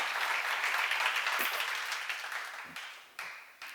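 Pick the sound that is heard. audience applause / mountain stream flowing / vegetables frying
audience applause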